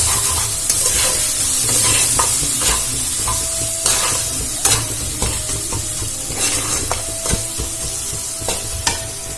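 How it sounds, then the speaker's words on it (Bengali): An egg is stirred and fried in a pan with potato, giving a loud, close sizzle broken by repeated scraping strokes of a utensil against the pan in an irregular rhythm. "দিয়ে আবার ভালো করে নাড়াচাড়া করে ভেজে নেব"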